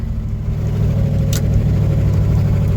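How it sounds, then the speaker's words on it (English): An old one-ton pickup truck engine with an exhaust or intake vacuum leak runs steadily, loud and close, with a low continuous rumble and a brief hiss. "It's got an exhaust or a intake leak there. A vacuum leak."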